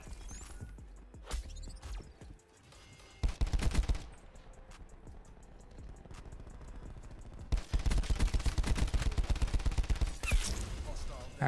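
Gunfire in Call of Duty: Black Ops 4, with scattered single shots and short bursts, then a long run of rapid automatic fire, close and loud in-game.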